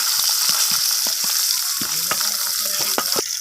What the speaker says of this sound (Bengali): আবারও আমি কড়াইয়ের মধ্যে আরও একবার মাছ আমি এখানে দিয়ে দেবো ভাজার জন্য